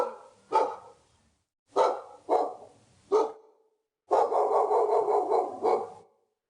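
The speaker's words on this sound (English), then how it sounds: "the only sound he could hear was a faraway barking dog" A dog barks several times with short pauses between, then lets out a longer burst of rapid barking before falling quiet.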